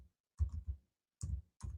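Bursts of keyboard typing in short clustered runs of soft clicks, separated by brief silences, heard close and fairly quiet.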